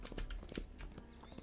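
Horse hooves in a video game forest area, several rapid clip-clop steps under a busy game soundscape, faint and fairly close.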